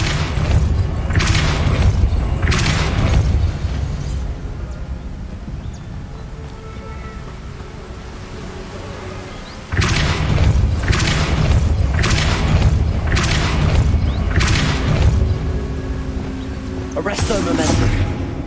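Repeated heavy magical blasts of the Depulso force spell in the Hogwarts Legacy video game, booming thuds in bursts over a continuous low game ambience, with one loud cluster near the start and another run later.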